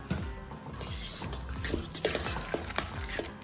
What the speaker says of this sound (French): Et on mélange à nouveau.